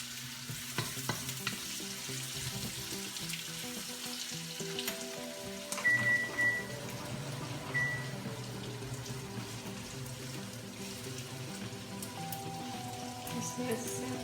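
Pancit canton noodle ingredients sizzle steadily in a frying pan, a continuous close frying hiss with faint background tones and a brief clink of utensils.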